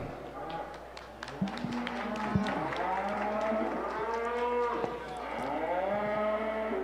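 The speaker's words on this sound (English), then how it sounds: "and a good class of heifers" Heifers moo repeatedly at a 4-H provincial beef cattle show, long drawn-out calls from several animals overlapping through a busy barn, with an announcer's voice running underneath.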